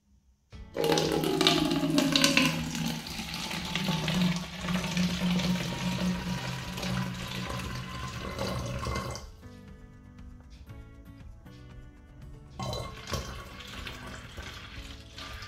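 Lime water poured from a full bottle into an empty bottle, a continuous close gurgling and splashing stream that slows and thins, then a brief second trickle near the end.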